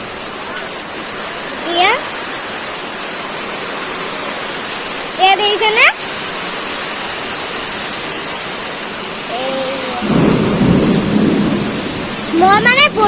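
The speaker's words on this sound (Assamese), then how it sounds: "এয়া আৰু ইমান হাৱা মাৰিছে দেখিছে নে আপোনালোকে এইবোৰ দেখিছে নে বৰ ধুমুহা মাৰি আছে" A windy thunderstorm with rain gives a steady, loud roar of rainfall and gusts for the whole stretch, with a deep rumble of thunder swelling near the end, while a voice speaks briefly over it.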